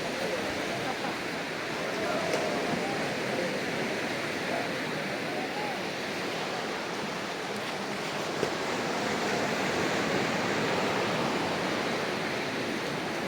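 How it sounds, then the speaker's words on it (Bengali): A constant, heavy roar of ocean surf at Teknaf, Bangladesh, fills the air, broad and unbroken, with wind buffeting the microphone. "কি সমুদ্রের গর্জন"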